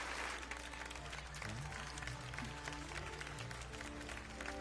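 A crowd applauds steadily in the video game Final Fantasy XII, a dense patter of many hands clapping at once, heard faintly with a low hum beneath.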